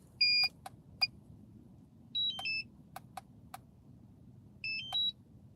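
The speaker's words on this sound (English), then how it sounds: "Why is that beeping to death?" An unidentified device beeps repeatedly in short electronic bursts, some single chirps and some paired tones, spaced irregularly over a low rumbling background, fairly faint and with no talking.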